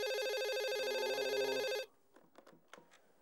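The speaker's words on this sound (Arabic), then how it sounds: "حد يرد على التليفون يا اخوانا، حد يرد على التليفون." A telephone rings loudly and steadily with rapid repeating electronic trills, then cuts off abruptly partway through, leaving only faint clicks and small handling noises.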